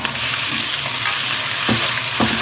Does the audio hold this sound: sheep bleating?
no